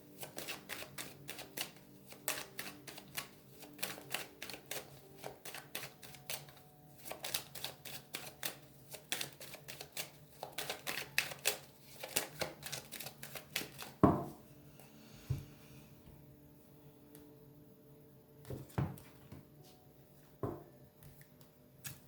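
A deck of cards for a card reading is shuffled in a quick run of close, dry papery flicks and taps, then cut with a few sharper snaps, without any talking.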